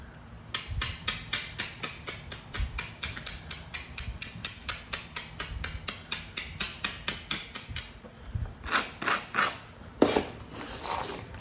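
Steady series of sharp clicking taps from a copper tool beveling the edge of an agate arrowhead, close and rhythmic at about three per second, then a few scattered scraping clicks.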